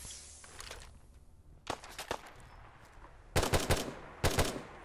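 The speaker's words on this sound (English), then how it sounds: "Shoot the famous gun!" Short bursts of gunfire in a modded Fallout 4 video game: several quick clusters of shots, fairly close, separated by quieter stretches of low background game ambience.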